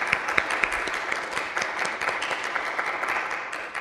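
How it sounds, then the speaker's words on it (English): Audience applause after a presentation on transgender topics, a steady wash of many hands clapping in a room, fairly even in loudness throughout, with no speech. "Let's give Antonia a round of applause and thank you."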